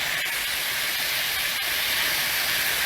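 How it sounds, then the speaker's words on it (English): Shrimp for scampi sizzle in a hot pan as they are flipped, giving a steady, loud, hissing fry with a couple of faint clicks from turning. "I'm just going to start flipping these. So I can get the other side cooking."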